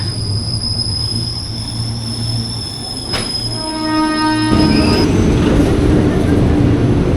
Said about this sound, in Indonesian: Akhirnya kereta yang ditunggu datang juga, langsung ke Nambo